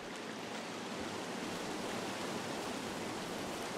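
River flowing in the video game Firewatch, a steady broad faint rush of water continuing throughout with no other sounds.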